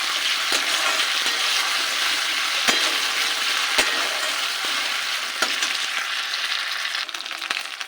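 Ginger, garlic and green chilli paste frying in a pan after onions makes a loud, steady sizzle close by. Sharp spatula clicks and scrapes come at irregular intervals, and no voices are heard.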